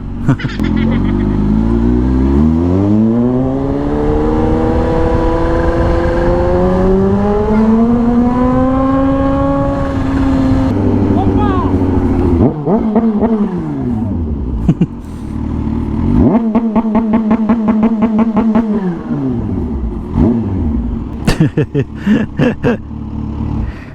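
Ford Mustang GT engine drones loud and close while driving, its pitch sweeping up and down through gear changes, with rapid throbbing pulses later and brief voices over it.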